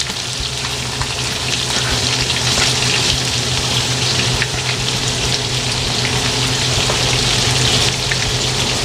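Fish tofu and squid balls fry in hot oil with a loud, dense, continuous sizzle and bubbling hiss that holds steady throughout, close up and without voices.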